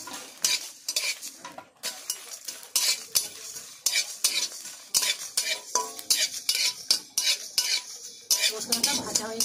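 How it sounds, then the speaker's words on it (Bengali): Spices frying in a kadai while a spoon stirs and scrapes, rhythmic metallic clinks and scrapes over a continuous sizzle, close and busy. "মশলাটা ভাজা হয়ে গেছে।"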